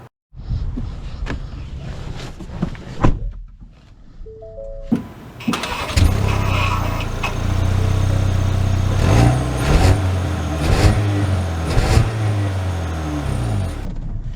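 A Ford Maverick Lariat pickup truck's engine cranks and fires up, then settles into a steady idle with some revving, heard close after a few clicks and door sounds.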